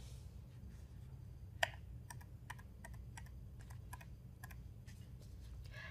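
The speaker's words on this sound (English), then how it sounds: "We can scroll through these commands with the up or down keys on our keyboard." Computer keyboard keys clack in a sparse, irregular series of crisp presses, one louder than the rest, over a quiet low background hum.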